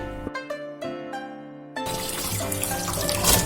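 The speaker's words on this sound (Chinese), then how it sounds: "把马齿苋清洗干净。" Purslane leaves are rinsed clean under a running kitchen tap. Sparse drips and light clinks come first, then a steady rush of water hits the sink, close and fairly loud, with no talk.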